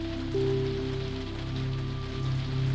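Rain falling steadily against a train window, a soft patter under a low hum of the carriage, quiet and continuous with no voices.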